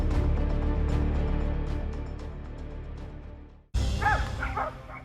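A pack of dogs barks and yips together in a loud, steady clamor while confronting a wolf in Saudi Arabia, broken by a brief cut before the yapping resumes with sharper high yelps.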